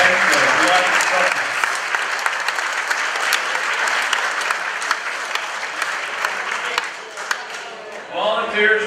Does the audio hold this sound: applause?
yes